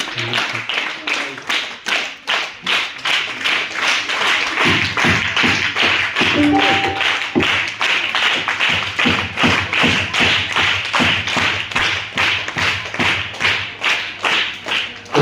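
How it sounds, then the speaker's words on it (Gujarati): Sustained applause from a crowd at a school anti-addiction awareness event, dense steady clapping that continues throughout, with a low hum running underneath. "તાળીઓના નાદ સાથે"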